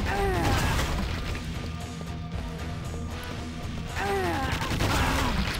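Rocket blasts thud and crash against Strogg enemies in Quake 2 on Xbox 360, a dense continuous barrage of booming impacts layered over game music and mechanical effects, loud throughout with no pauses.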